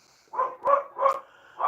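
A dog barks three times outdoors at a steady, even pace, followed by the start of a fourth bark. The barks are moderately loud and slightly distant, with no talking.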